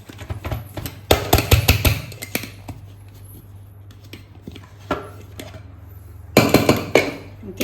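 The lid of a mixer jar of ground cashews comes off with clattering, clinking metal and plastic knocks, close and sharp, in two irregular clusters separated by quieter handling.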